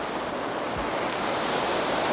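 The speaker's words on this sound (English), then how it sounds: "There's water coming in, that's interesting." Water flowing into a vast cave chamber, a steady, even rush of broadband noise like a distant torrent, faint and unbroken for the whole stretch, with no voices.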